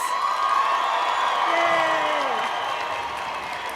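Crowd at a college commencement for the Roaring Fork campuses cheering and applauding after the class of 2026 turns their tassels, a steady, loud wash of clapping and whoops with a brief rising voice.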